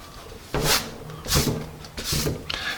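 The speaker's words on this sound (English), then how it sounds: "Here's a Magic Rub, a newer eraser in the rotation here." A Magic Rub vinyl eraser scrubbing pencil marks off paper, three distinct bursts of close, raspy rubbing separated by short pauses.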